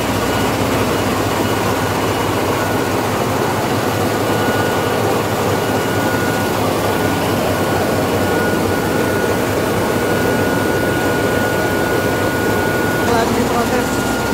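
A Kubota dompeng diesel engine drives a rice mill in Cianjur, making a loud, unbroken roar with a steady whining hum, as if heard from close to the machinery, while voices may be faintly buried beneath it.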